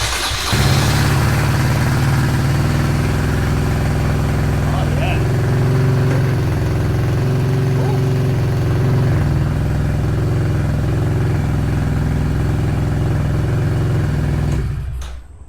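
A Kawasaki Z125 Pro motorcycle with a 143cc kit sits idling in neutral, its steady low engine hum running continuously and fairly close before cutting off at the very end, with faint speech over it.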